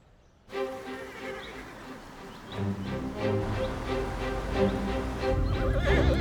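A horse neighs and its hooves clip-clop steadily, growing louder and denser as it comes closer, with no talk over it.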